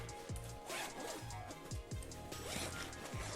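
A zipper on a Matador SEG42 travel duffel bag is pulled open in several quick rasping strokes, close up and fairly loud, with faint rustling of fabric around it.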